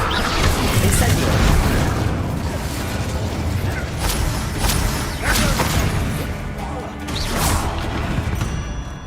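The Incendio fire spell in Hogwarts Legacy, cast in a mine during a loud fight, gives repeated bursts and crashes over a constant rumbling background.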